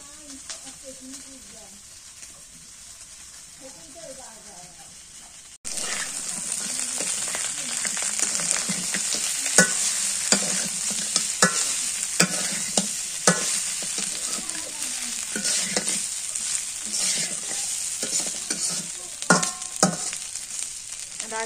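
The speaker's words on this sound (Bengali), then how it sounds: "এটা আগে ভালো করে ভাজা ভাজা করে নিয়ে তারপর পানি দিই।" Chicken feet fry and sizzle in a pan, a bright steady hiss broken by repeated scrapes and clatters of stirring, loud and close after a quieter opening stretch where a voice is talking.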